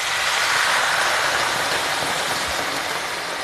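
Hot water pours into a pan of spiced potato gravy, a broad steady hiss and rushing splash that keeps a constant level throughout, with no voices.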